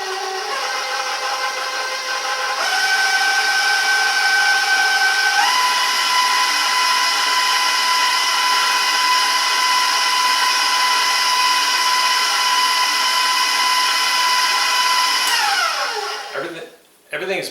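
An electric hand mixer whirs steadily through blueberry coffee cake batter, a close, continuous motor whine that steps up in speed twice before winding down and stopping near the end.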